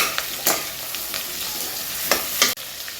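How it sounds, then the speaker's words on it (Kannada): Beans, carrot and cauliflower fry in a pan for spinach pulao with a steady close sizzle, broken by several scraping stirs of a spatula and a sharp knock near the end. "ಎಲ್ಲ ಫ್ರೈ ಮಾಡ್ಕೊಳ್ಳೋಣ ಮುಂಚೆ"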